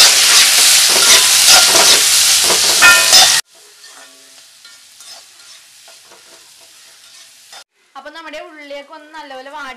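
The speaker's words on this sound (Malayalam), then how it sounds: "ഇനി ഇതിലേക്ക് ചെറുതായിട്ട് അരിഞ്ഞ് വെച്ചിരിക്കുന്ന നമ്മുടെ ചെറിയ ഉള്ളി ഇട്ടിട്ട് അത് നന്നായിട്ടൊന്ന് വഴറ്റി എടുക്കണം" Finely chopped small onions sauté in a hot pan as part of an eel fish curry. A loud, dense sizzle with stirring fills the opening seconds, then falls to a quieter background. A voice comes in near the end.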